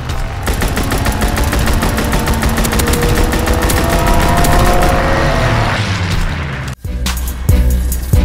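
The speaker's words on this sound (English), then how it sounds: "Strafing run inbound." Sustained rapid machine-gun fire from a strafing run in the World War II shooter Call of Duty WW2, a loud, dense rattle that runs for several seconds before tapering, followed by a sharp cutoff and a few heavy booms.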